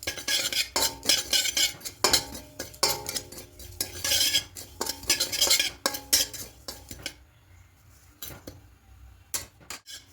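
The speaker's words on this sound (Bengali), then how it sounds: "এখানে 4 চামচ পোস্ত আছে, এবার কড়াইয়ের মধ্যে নেব। হালকা খোলায় একটু পোস্তটাকে ভেজে নেব।" A spoon scrapes and stirs through four spoonfuls of poppy seeds dry-roasting in a kadai, fast close metallic strokes in busy bursts that thin out into sparse, isolated scrapes and taps near the end.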